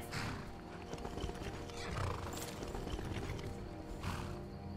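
A horse in the video game Skyrim Special Edition on Xbox One snorts and whinnies amid clopping hooves and rustling movement, fairly close, with game-like ambient noise underneath.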